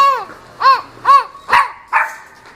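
A person imitates a small dog barking, five close, loud woofs in a steady, slightly uneven rhythm, each short and yelping, with nothing else heard.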